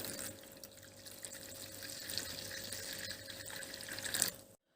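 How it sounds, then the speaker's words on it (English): Warm water pours steadily into a bowl of sugar and dry yeast, a close, continuous splashing stream that stops abruptly at the end. "Then pour the warm water and ferment a little."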